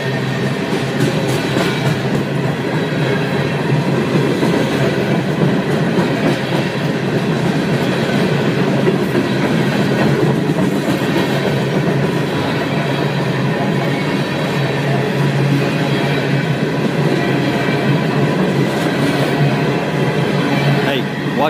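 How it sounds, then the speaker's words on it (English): A long CSX freight train keeps rolling past on the tracks at a train meet, a steady close rumble with rhythmic wheel clatter that holds without pause for over twenty seconds. "See, the other train's still going."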